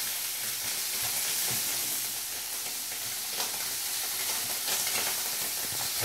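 Lamb liver sizzles in a hot pan, producing a loud, continuous hiss and crackle with occasional sharper spits, close by and with no talking.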